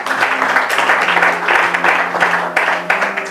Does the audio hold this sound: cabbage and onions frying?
no